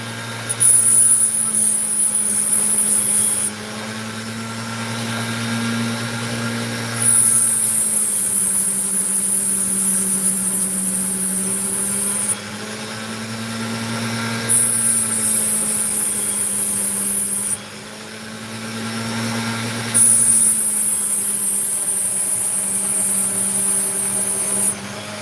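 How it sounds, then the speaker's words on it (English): A Dremel rotary tool grinds and cuts opal with a steady motor hum. A shrill high whine rises and falls in regular bursts as the bit repeatedly meets and leaves the stone. "It is a Dremel tool."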